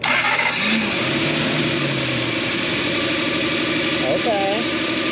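A Lexus sleeper car that has sat unstarted for ten years cranks and catches, its engine running loudly and steadily up close, while people talk over it.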